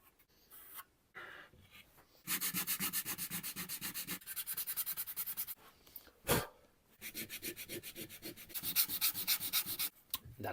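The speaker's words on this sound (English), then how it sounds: "I'm going to have to sand it down" Sandpaper rubbing paint off the wooden body of a kit guitar in a luthier's workshop, steady rapid back-and-forth strokes in several close, loud bursts with short pauses between them.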